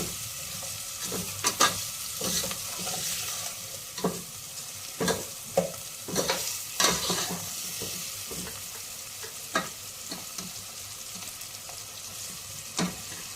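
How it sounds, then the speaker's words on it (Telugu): Pieces of mutton frying in oil in a pan while their water cooks off, a soft continuous sizzle broken by irregular scraping stirs and occasional knocks of a spoon, close but fairly quiet. "వాటరు డ్రై అయినంత వరకు మనము కొద్దిగా వేయించుకుందాము ఆయిల్లో మటన్ని"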